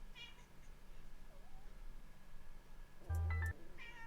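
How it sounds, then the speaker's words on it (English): A pet cat in a game stream meows in one short, loud call near the end, heard alone over a faint steady background hum. "meowing"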